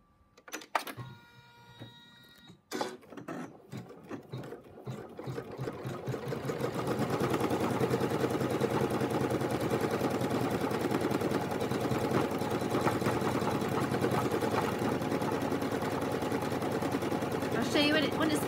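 An embroidery machine stitches hot fuchsia pink lettering onto denim, starting with a few clunks and mechanical clicks, then settling into a loud, continuous rapid whirring rattle at close range.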